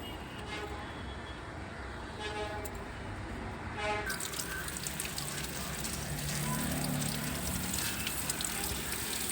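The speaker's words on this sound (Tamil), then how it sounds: "இப்போ இந்த செடியில் எல்லாத்துக்கும் தண்ணி விட்டுடலாம்." Water splashes and trickles steadily onto potted flower plants, growing fuller partway through, with a soft continuous gush throughout.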